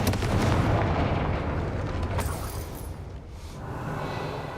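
A Confringo fire spell blast in the Hogwarts Legacy video game erupts as a loud, full-bodied explosive boom, then a sustained roar of rumbling debris, with a second swell near the end and no voices.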